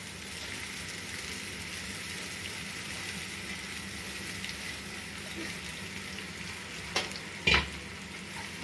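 Soaked poha tipped into a hot pan for street-style poha gives a steady, soft frying sizzle with light stirring. A couple of brief scraping knocks near the end stand out over the constant hiss.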